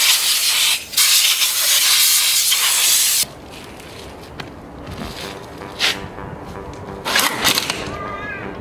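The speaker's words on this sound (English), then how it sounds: "it's important that you blow out the brakes" Compressed air blows sand out of car brake calipers, making a loud, steady hiss for about three seconds with a short break. Quieter handling noises and softer air bursts follow.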